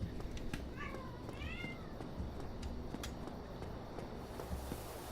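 A cat gives a couple of short, rising meows close by, set against a quiet room hum and a few faint taps.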